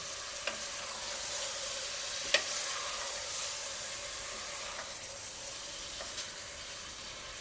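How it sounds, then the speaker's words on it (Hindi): Cumin, cinnamon sticks and black pepper stirred and dry-roasted in a hot pan for a restaurant-style beef do pyaza, a steady soft sizzle and hiss with a few sharp scrapes and clicks of the spoon, no talking. "अब इसको हम बहुत ही अच्छी तरीके से चलाएंगे।"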